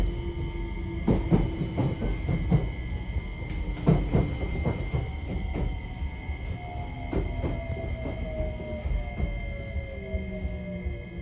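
Train pulling into Chikuzen-Fukae station, with rhythmic clacking of wheels over rail joints, rumbling carriages and a rising whine of braking as it slows to a stop nearby.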